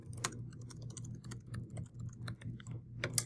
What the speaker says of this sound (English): I'm going to type in the question that I want to ask